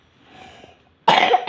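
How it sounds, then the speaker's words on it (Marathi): A young girl coughs close by: a short, loud burst of two or three coughs after a faint, quiet moment. "धर खोकली बाई"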